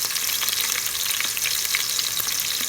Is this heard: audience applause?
no